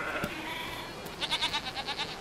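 A pregnant goat in pain bleats in a few short, wavering cries near the end, fairly close, over a faint outdoor background with no talking.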